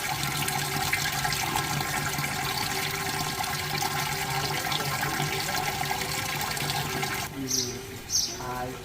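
Water in a koi pond's circulation system flows with a steady, rushing wash at a resort. It continues unbroken, and a few brief sharper sounds come near the end.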